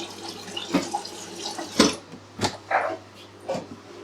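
Tap water running from a kitchen faucet into a pot, a steady close splashing flow with intermittent louder gurgles and knocks over several seconds, no voices.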